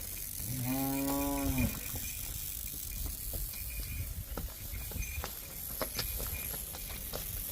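A buffalo moos once on a farm, a loud, drawn-out low call near the start, followed by quieter farmyard rustling and clatter with no talk.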